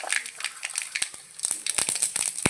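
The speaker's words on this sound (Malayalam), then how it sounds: "കടുകും ഉഴുന്ന് പരിപ്പും പൊട്ടി വൃത്തിയായിട്ടുണ്ട്" Mustard seeds and urad dal pop in hot coconut oil, sharp irregular crackles and spits that come close and fairly loud in a quick scattered rhythm, with no voices.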